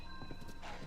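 Horse hooves clip-clop in The Legend of Zelda: Tears of the Kingdom, a brief burst of game footsteps near Lookout Landing, soft and steady under faint background game music.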